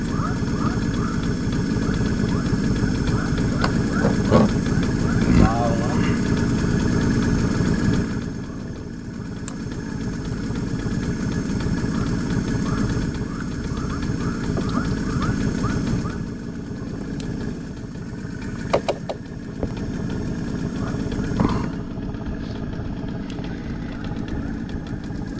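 Idling engine of a small fishing boat, a steady low drone that runs continuously at close range, with brief clanks and voices talking over it at times.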